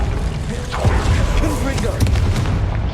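Booming spell-casting explosions in a Harry Potter video game on hard mode, dense and loud over continuous game noise, with a voice calling out spell names throughout.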